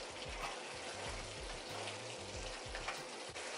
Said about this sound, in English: Tip in a little bit of water.